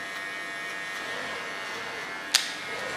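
Electric hair clipper set to 2 millimeters buzzing steadily while cutting hair, a close, even hum with one brief sharp click near the end.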